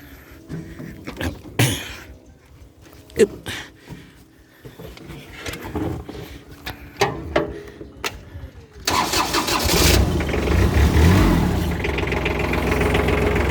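A 2008 Kubota L3408 tractor diesel engine, with clicks and clunks and a few cranking bursts before it catches and settles into a loud, steady, close idle.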